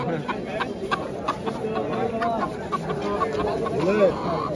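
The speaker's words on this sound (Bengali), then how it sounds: "ও এটা মুরগি, এটা মারামারি মোরগ।" Hens cluck and a fighting rooster calls amid a busy crowd at Katakhali livestock market in Rajshahi, Bangladesh, with people talking nearby and scattered clatter in the background.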